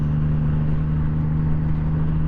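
Steady engine drone from a 2017 Triumph Rocket III Roadster motorcycle under throttle, a strong low hum held constant and close, without clear rising revs.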